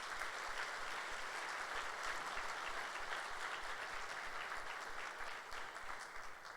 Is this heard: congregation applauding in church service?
yes